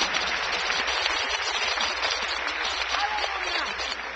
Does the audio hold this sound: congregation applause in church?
yes